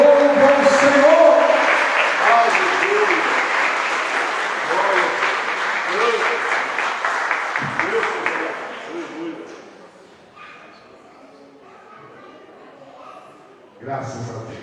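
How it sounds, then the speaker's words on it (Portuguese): A church congregation applauds loudly and steadily with voices under it. The clapping fades after about nine seconds into quieter murmuring, and a voice returns near the end. "As palmas louvam ao Senhor."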